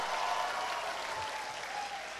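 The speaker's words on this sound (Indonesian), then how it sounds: "Tepuk tangan untuk kita semua ya." Continuous applause from a seminar audience at a business talk, a steady, even wash of many hands clapping heard from a distance without any voices.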